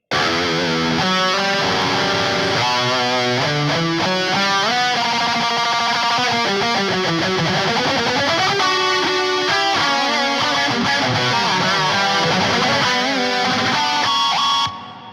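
Lead electric guitar solo with fast, soaring melodic runs over a full band backing, drenched in echoing repeats and roomy reverb, loud throughout.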